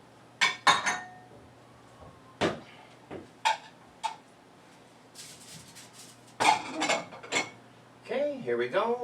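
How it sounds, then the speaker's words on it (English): Plating pork and pasta ragù in a quiet kitchen: scattered sharp clinks and clatters of dishes and cutlery come in separate bursts, and a voice speaks briefly at the end. "Let's go ahead and plate it up."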